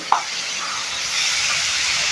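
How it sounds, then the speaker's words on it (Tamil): Tomatoes and onions sauté in a pan for chutney, a steady loud sizzling hiss throughout with a brief clink of a utensil at the start. "நல்லா வதக்கி விட்டுக்கலாம் தக்காளியும் ஓரளவுக்கு வதங்கி வரட்டும்"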